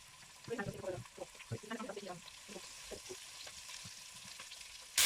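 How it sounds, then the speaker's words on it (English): Oxtail browns in a pot on each side, giving a faint, quiet sizzle with short bursts of louder crackle early on and a soft murmur of voice in the background. "we are just cooking it, browning it on each side"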